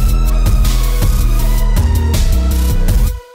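A trap beat built with the Vital synth in FL Studio, with loud booming bass, punchy drums and bright synth layers driving steadily before cutting off abruptly near the end.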